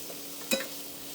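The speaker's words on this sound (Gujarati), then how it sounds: "અને એમાં નાખશું આપણે કોબી અને કેપ્સિકમ" A short scrape and clatter as cabbage and capsicum are stirred in a pan, one quick burst standing out briefly against a faint kitchen background.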